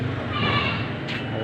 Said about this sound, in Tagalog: Si tatay may hila-hilang kambing, oh.